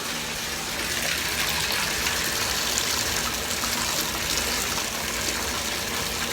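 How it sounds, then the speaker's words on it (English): Water from a push-button shower pours steadily into a bowl, a continuous close gush with no break or talk over it. "And you fill it up with the water."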